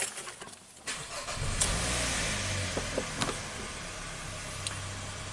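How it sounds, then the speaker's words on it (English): A Hyundai car with a bad battery cable and charging trouble cranks and starts, then settles into a steady idle close by, with a few light clicks over the running engine. "Let me run the car one more time."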